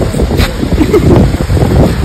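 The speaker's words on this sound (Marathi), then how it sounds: "धबधबा चालू आहे." A flowing waterfall makes a loud, close, rumbling rush, with gusty buffeting throughout and no clear voices.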